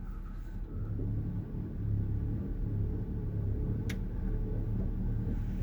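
Car engine running smoothly after being shifted into gear, a low steady rumble close by with no talk and one brief faint click.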